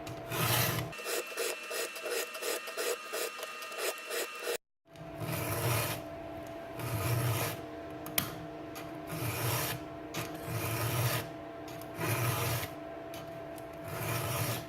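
A hand file sharpens chainsaw teeth in a close, regular series of rasping strokes, with a quick set of short strokes, a brief cut to silence, and then slower, even pushes, all without speech.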